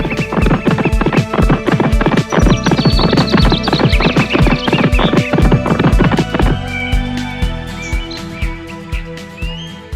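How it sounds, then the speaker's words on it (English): Rapid, loud hoofbeats of a running horse clatter in a steady galloping rhythm alongside bright chirping birdsong, then ease into a softer, sparser clip-clop with lingering tones in an animated kids' story. "And so the horse started running."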